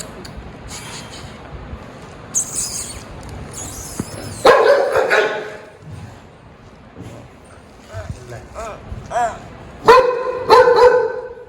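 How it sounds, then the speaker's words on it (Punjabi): A large dog barks a few times near a gurdwara in a village, the barks loud and close, mixed in with people talking. "ਬਾਲੀ ਵੱਡੀ ਹੈ ਡੌਗੀ Doggy. Doggy."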